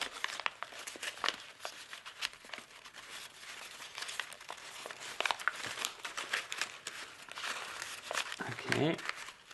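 A plastic shopping bag crinkles and crackles steadily as it is folded into a reverse fold for a kirigami unicorn, the rustling close and continuous with sharper bursts, while a voice talks over it.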